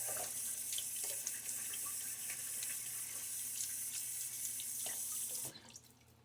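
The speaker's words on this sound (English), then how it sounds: "Splash of water." Water running from a tap and splashing into a sink during a wet shave, a steady close rush that cuts off abruptly near the end.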